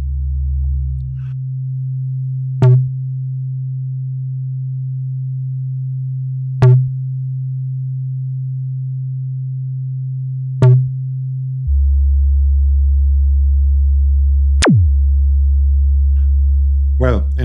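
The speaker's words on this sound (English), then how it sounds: "I demonstrate that by feeding a sine wave into the filter" A steady low sine tone drones through a synthesizer filter, broken by sharp periodic clicks, then shifts to a deeper tone with a sweeping chirp near the end.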